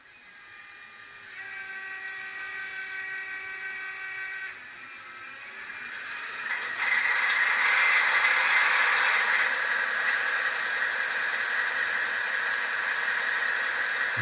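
A GTEL 8500 N scale model locomotive runs its sound startup sequence: a steady electronic whine and tones step up, then settle into a louder continuous turbine-like drone, close and alone.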